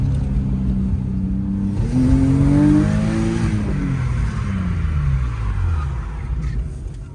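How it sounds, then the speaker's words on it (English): BMW E36 race car drifting, its engine revving up and sweeping through the gears with a rising then falling pitch, loud and close, without speech. "Full-on race car."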